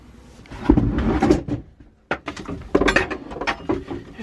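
A narrowboat inspection hatch is lifted open in a series of close wooden knocks, scrapes and clunks, with a short pause midway before more handling and a final rattle as the panel comes free.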